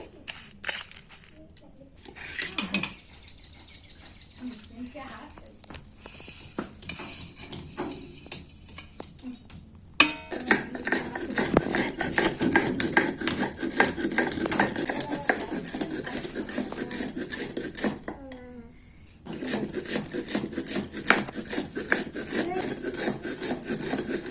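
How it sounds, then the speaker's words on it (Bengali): Fried ingredients, roasted dark, are ground on a shil-nora grinding stone, giving steady rasping, rubbing strokes in long bursts with short pauses between them, close and moderately loud. "এখন এটা শিলনোড়াতে গুঁড়ো করে নেব"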